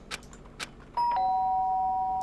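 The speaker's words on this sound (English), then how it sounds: "The sharp sound of the doorbell pierced my sleepy haze and pulled me back to the real world." A doorbell in the video game Danganronpa rings out with a bright two-tone chime that sustains for over a second, loud and alone after a few quiet rustles.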